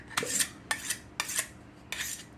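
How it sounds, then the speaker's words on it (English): A kitchen knife drawn across the fine side of a Smith's diamond sharpening stone: four evenly spaced, close scraping strokes, each a short bright rasp, with quiet gaps between and no talking. "But I used a few strikes on the fine side"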